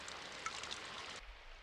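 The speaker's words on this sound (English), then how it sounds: "the rain pattered endlessly against the window." Faint, steady rain patters against a window in the video game Symphonic Rain, a soft hiss of drops that cuts off abruptly near the end, with no voices.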